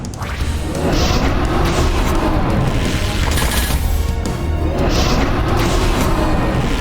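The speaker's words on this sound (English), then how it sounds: "So only the dragon's going to breathe fire on this guy." Dragon fire-breath attack from the Symphony of War fantasy strategy game: a sustained, loud roaring blast of broadband noise lasting several seconds, with crashing impacts layered in and no talk.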